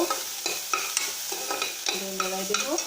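Crushed ginger and garlic stirred into hot oil with fenugreek seeds while cooking boil fish, giving a steady sizzle broken by several sharp scrapes of a spatula against the pan; no one speaks.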